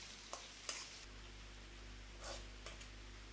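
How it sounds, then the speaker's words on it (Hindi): Onion and garlic fry in a pan while Indian radish greens saag is being made, giving a faint, steady sizzle with a few soft stirring clicks and scrapes. "दो मिनट में फ्राई कर लेंगे प्याज और लहसुन को।"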